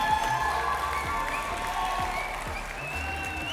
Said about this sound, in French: je vais prendre vos applaudissements, les applaudissements des gens de la région